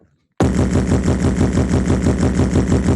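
A human voice imitates 1,000 BPM music as a relentless, rapid mechanical chugging, like a tractor engine, starting abruptly after a brief silence and running loud and unbroken to the end.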